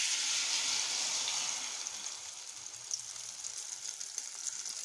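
Egg frying in a pan with tomato, chilli and onion, a steady close hiss of sizzling oil that fades slightly and then carries on with faint pops.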